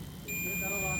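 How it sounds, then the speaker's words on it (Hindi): A multimeter in continuity mode gives a steady electronic tone while testing a fuse in the wiring of a Mahindra Supro BS6. The tone starts abruptly and holds on over background noise and a voice speaking in Hindi. "मल्टीमीटर की दूसरी वायर लगाने पर ये कनेक्टिविटी की आवाज़ आपको सुनाई दे रही है।"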